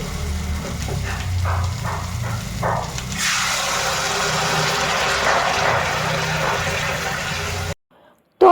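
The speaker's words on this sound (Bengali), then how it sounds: "আমি এখন গরম জল অ্যাড করে দিলাম একদমই গরম জল দিয়ে দিচ্ছে আর সাথে সাথে দেখো ফুটে উঠেছে" Hot water is poured into a pan of spiced fish curry with cauliflower and potato, setting off a loud, steady sizzle and hiss that boils up over background noise before the sound abruptly cuts out.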